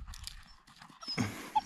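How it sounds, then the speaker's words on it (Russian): A dog whines softly while being given treats by its owner, with short, high, thin whimpers near the end of a brief stretch of shuffling and chewing noises. "Да, и скулим."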